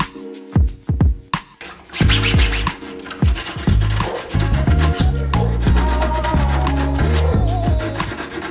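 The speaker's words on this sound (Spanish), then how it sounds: "lo que hice fue lijar muy bien, primero con una lija gruesa y al final terminar con una lija muy delgada" Sandpaper rubs and scratches over a 3D-printed Boba Fett cosplay helmet in a series of loud, close strokes: a few short rasps at first, then sustained back-and-forth sanding.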